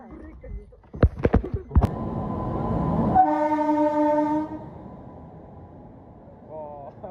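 A train at a railway station clatters in with rumbling wheels and sharp clanks, then its horn blares in a long sustained blast, with a short horn note again near the end; voices talk faintly in the background.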